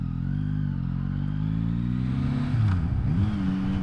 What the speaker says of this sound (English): first to second's got a bit of a clunk to it